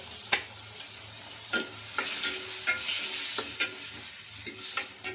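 Finely chopped tomatoes with salt cook in a pan while a spoon stirs them, giving a soft continuous sizzle punctuated by about eight sharp scraping clinks at an uneven pace.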